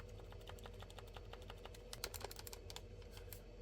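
Face buttons on a Retroid Pocket 2S handheld click repeatedly at close range. The sharp taps come in quick, uneven bursts, sounding much like keyboard typing, with no speech over them.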